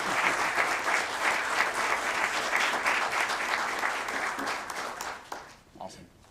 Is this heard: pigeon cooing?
no